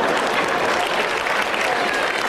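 An audience at a live comedy concert applauds in a dense, steady burst of clapping that keeps going at an even loudness the whole time.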